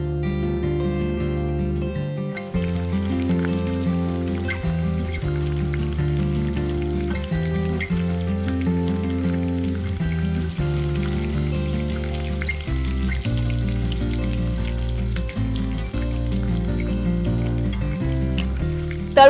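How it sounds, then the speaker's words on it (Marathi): Champakali sweets deep-fry in hot oil with a continuous crackling sizzle, heard close and steady under background music. "आता तेलही तापलेलं आहे. आता आपण ह्या तळून घेऊया."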